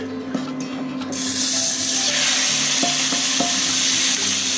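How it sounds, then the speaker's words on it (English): About a pound of venison dropped into a pan of hot oil for wild game hand pies, setting off a loud, steady sizzle that swells after a second and then holds, with a few faint utensil knocks. "I've got a couple of tablespoons of oil nice and hot in the pan here. And I'm going to go ahead and throw in my venison."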